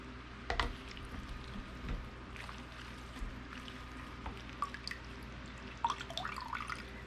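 Homemade vegetable broth drips from kitchen scraps in a colander into a bowl beneath, sparse irregular drips and soft splats over a steady low kitchen hum, close and fairly quiet, with no talking.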